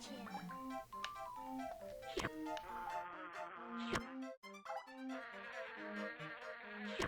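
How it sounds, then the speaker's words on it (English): A bee buzzing in the N64 game Rugrats in Paris, a wavering insect drone mixed with bouncy game music and sound effects, with voices talking over it. "That's a bee."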